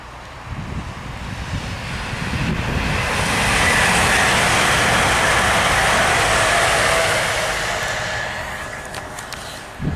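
A CrossCountry train passes in the rain, a broad rushing roar that swells to a loud peak mid-pass and then fades, with no talk over it.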